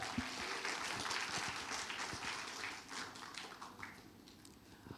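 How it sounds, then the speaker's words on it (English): Audience applause for the speakers at a Chatham House panel event on regional conflicts in the Middle East: fairly quiet, steady clapping from a room crowd lasting throughout, gradually thinning toward the end, with no talk over it. "Please give one warm applause to all speakers today"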